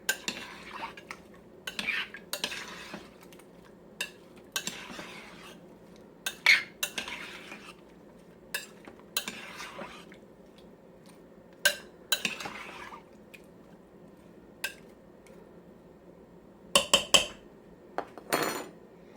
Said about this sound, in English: I am going to give it a stir.